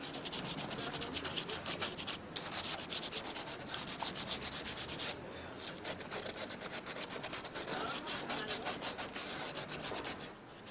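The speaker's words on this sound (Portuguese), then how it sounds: "Depois você vai lixar as pontas dos tubos e as bolsas das conexões." Sandpaper rubs over the ends of PVC sewer pipes and fitting sockets in quick, repeated rasping strokes, close and continuous for several seconds with a brief pause midway, no voices.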